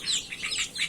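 A sick chicken makes soft, brief clucking calls, two or three quick notes close by and faint, with no other sound.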